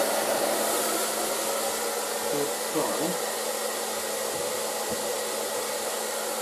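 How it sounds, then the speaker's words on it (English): An ETI Professional Turbodryer 2000 hair dryer on low heat and low speed runs steadily with an even whirring hum and airy rush, constant and fairly close throughout. "So let's try on the low heat, low speed."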